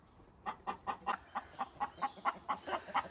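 Homestead chickens cluck in a steady series of about a dozen evenly spaced, clipped calls, close by and clear over a quiet background.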